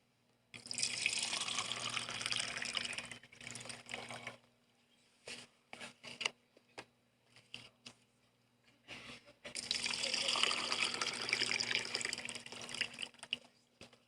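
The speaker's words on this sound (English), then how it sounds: "if you wash your fruits and vegetables in this water" Tap water running into a sink to wash fruits and vegetables, two long loud bursts of flow separated by a quieter stretch of brief splashes and drips.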